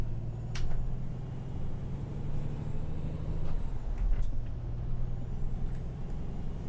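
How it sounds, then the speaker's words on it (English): A heavy truck in a truck-driving game, its engine droning low and steady while the gears grind with short rasping bursts and hisses over the rumble, with no talking. "Still grinding gears a little bit"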